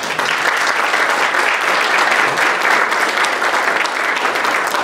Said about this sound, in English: That by itself should give them a round of applause.